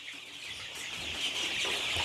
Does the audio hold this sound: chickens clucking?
yes